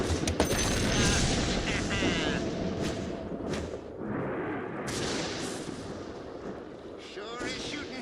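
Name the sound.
gunfire shooting in Dota 2 video game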